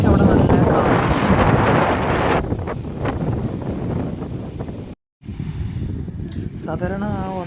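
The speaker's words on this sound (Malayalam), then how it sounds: "അപ്പോഴേക്കും അവിടെ നല്ല കാറ്റ്." Strong wind sweeps across a beach, roaring against the microphone in a loud, steady rush that eases slightly after a brief cut, with a voice briefly audible near the end.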